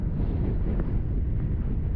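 Strong wind buffets the microphone on a country road trip, a loud continuous low rumble with no other clear sounds.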